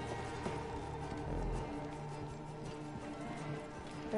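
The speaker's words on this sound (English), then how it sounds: "There's my horse." Horse hooves clip-clop in the video game Assassin's Creed Origins, a faint, quick rhythmic beat of hoofsteps moving along under soft game ambience.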